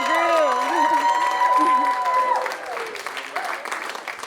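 An audience applauds and cheers for a band at a KQED party event, loud broadband clapping mixed with whooping voices that fades somewhat toward the end.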